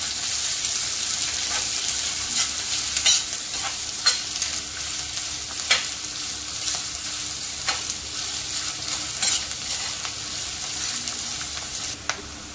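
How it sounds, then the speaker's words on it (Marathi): Finely chopped onion fries in hot oil in a pan, giving a steady close sizzle with occasional scraping stirs on top, no voices. "आता आपण त्याच्यामध्ये कांदा, बारीक चिरलेला कांदा टाकूया."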